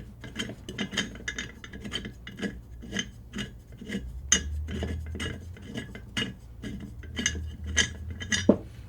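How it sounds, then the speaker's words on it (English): A wrench works a bolt loose on a Pixel Pusher, giving a run of quick metallic clicks and scraping ticks in an irregular rhythm, close and fairly quiet, with a low hum underneath. "the first thing you want to do is to undo this bolt right here"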